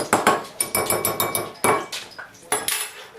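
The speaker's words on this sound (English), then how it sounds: "let's fluff these eggs up a little bit." Eggs being beaten with a utensil against a bowl to fluff them, a quick rhythmic series of sharp clinks and taps, close and fairly loud, with no talking.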